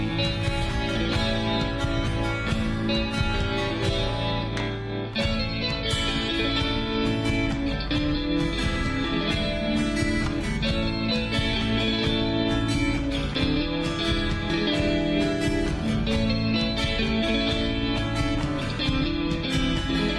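A full-band song plays continuously at steady, loud volume, with dense instruments and a driving beat throughout.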